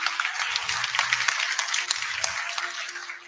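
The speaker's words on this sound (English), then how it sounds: "let's give him again a warm round of applause" Audience applause at a university convocation, a steady wash of many hands clapping that stays fairly even in level throughout, with no voices standing out above it.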